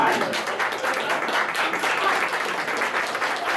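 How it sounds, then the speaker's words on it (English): An anime convention game-show audience claps in a dense, sustained round of applause that holds steady at full volume for several seconds. "give a round of applause, guys"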